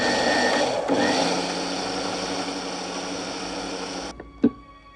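A blender runs steadily, whirring a milkshake of banana, peach, sugar and milk, a loud continuous motor drone that cuts off near the end, followed by a brief clunk.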